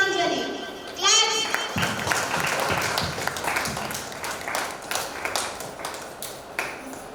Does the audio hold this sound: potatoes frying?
no